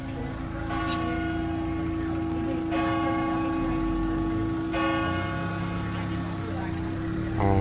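Church bells ring out over a town street in Interlaken, Switzerland, a series of steady tolls swelling and fading amid continuous background hum and murmur, with people talking nearby.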